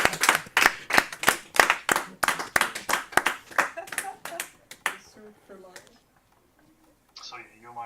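Sharp hand claps ring out in a quick, steady rhythm, slowing and fading after a few seconds, followed by quiet and a brief voice.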